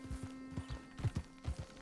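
Horse hooves in Red Dead Redemption 2 clip-clop in an uneven, shuffling rhythm, soft and fairly close, with a faint steady tone humming in the background.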